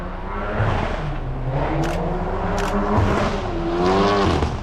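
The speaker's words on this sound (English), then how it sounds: "Car is awfully loud too." A loud car engine revving and accelerating past on a 25 mph street, a rising throaty roar passing nearby with shifting pitch, no voices.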